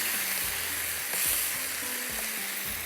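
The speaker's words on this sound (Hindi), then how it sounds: "बस आपने इसको चम्मच चलाना है" Seekh kabab masala sizzles steadily in a hot pan while a spoon stirs it, giving a broad, continuous frying hiss with soft scraping strokes underneath, close and fairly loud throughout.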